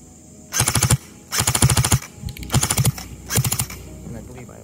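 An LCT AKMS airsoft electric gun fires full auto outdoors in four short, rapid rattling bursts, each under a second long and separated by brief pauses.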